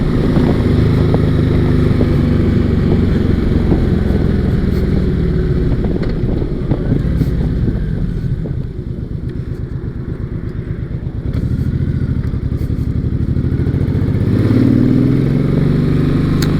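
A Honda VTX1800R cruiser motorcycle is ridden with a deep, loud, continuous engine rumble and wind roar, easing slightly in the middle before building again.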